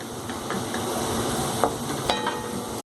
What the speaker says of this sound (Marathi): हिंगडीचा खडा छान तळला गेलाय त्याचा वास पूर्ण तेलाला लागलेला आहे